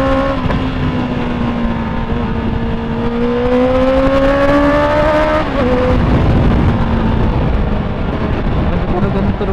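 Motorcycle engine revving high above 6,000 RPM, a loud, close, steady whine whose pitch climbs gradually, dips briefly and rises again.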